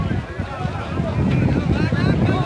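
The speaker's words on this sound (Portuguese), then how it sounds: "agora o vento bateu" Wind gusting hard against the microphone at an outdoor kite festival in Petrópolis, a loud continuous low rumble and buffeting that builds halfway through, with people talking faintly underneath.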